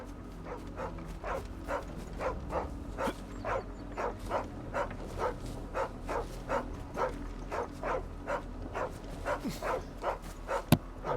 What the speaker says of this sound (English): Fucking neighbor's dog right there. Just sits there and Brown and barks and white. barks and barks.